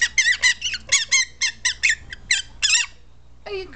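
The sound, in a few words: green-cheeked conure making noises in her cage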